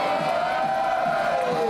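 A wrestling crowd at a home-town show roars and cheers continuously for a wrestler, a dense, loud wash of voices filling the space.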